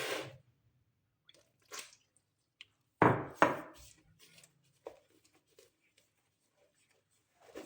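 Chapati dough for paratha being kneaded by hand with flour, salt and cumin, in a few short, close squishing, slapping bursts separated by quiet pauses.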